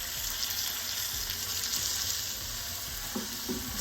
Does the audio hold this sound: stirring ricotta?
yes